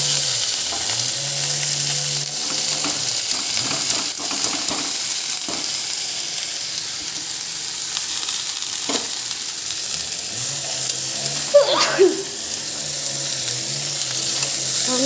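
Chopped chal kumro (ash gourd) greens hit hot oil already seasoned with tempering spices, onion and chilli, setting off a loud, continuous sizzle with scraping stirs and a few clinks, no voices.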